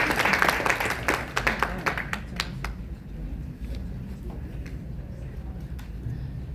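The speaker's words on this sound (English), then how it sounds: "Another round of applause for Mr." A summit audience applauds a speaker from Brand South Africa. Dense clapping is strongest at the start, then thins out into scattered claps under background murmur.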